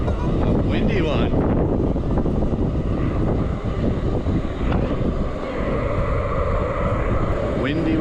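Heavy, buffeting wind noise rumbles against the microphone while skating gravel roads in the rain, loud and continuous with brief voice fragments mixed in.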